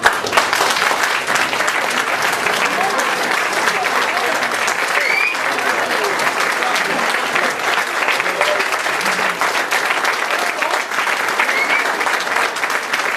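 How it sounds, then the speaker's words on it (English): Sustained audience applause fills a rugby club presentation night, dense and steady clapping from a large crowd throughout, with no break. "I'd like every player to stand up and take a round of applause for the commitment that they've shown"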